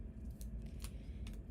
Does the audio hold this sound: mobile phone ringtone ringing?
no